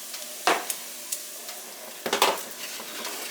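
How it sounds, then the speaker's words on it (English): Butter melts in a pan on the stove, giving a faint sizzle with a few soft clinks and stirring scrapes of a utensil against the pan, close and quiet. "letting this butter melt at the very bottom"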